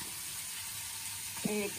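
A vegetable curry of potato, stems and jackfruit cooks in a pan with a soft, steady sizzle and low bubbling, and a short voice sound breaks in near the end.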